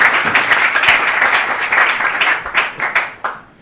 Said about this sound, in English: And certainly the school deserves a round of applause for surviving us,